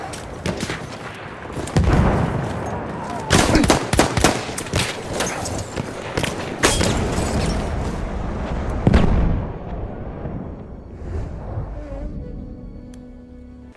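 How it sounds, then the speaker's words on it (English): Dense Battlefield 1 combat with rapid gunfire bursts, sharp rifle shots and booming explosions, loud and continuous, fading toward the end. "it also sounds great with the explosions, the bullets, and the gun sound effects, and hearing your teammates shooting"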